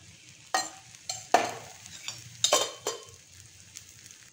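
Stirring and sizzling from two eggs frying in an oiled pan for an omelette, with several sharp utensil scrapes and taps against the pan over a low steady hiss, close and moderately loud.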